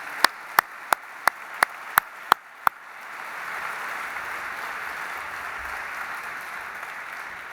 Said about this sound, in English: Let's give them once again a big round of applause.